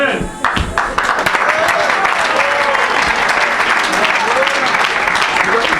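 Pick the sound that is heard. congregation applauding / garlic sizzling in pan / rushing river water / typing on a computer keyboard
congregation applauding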